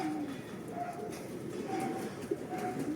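Soft, low cooing pigeons, several calls repeating over a busy outdoor background with faint rustling and distant noise.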